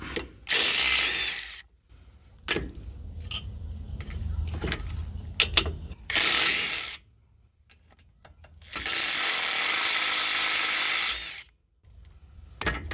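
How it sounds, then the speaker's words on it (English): Bolts are removed from a concession trailer with a power tool that runs in three long, loud whirring bursts, broken up by clicking ratchet-like taps and clanks from handling the parts. "we're going to take these 3 bolts out and bolt the new one in"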